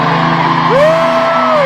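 Fans at a concert scream and whoop loudly, a dense wall of crowd voices with one rising shriek cutting through, close and continuous.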